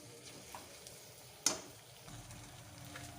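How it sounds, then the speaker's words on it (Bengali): Spice masala for egg curry sautéing in a pan, with a faint, quiet sizzle, light stirring and one sharp clink of the utensil partway through. "ভালো করে মশলাটা কষিয়ে নেব। কিছুক্ষণ ধরে মশলাটা একটু কষিয়ে নিতে হবে।"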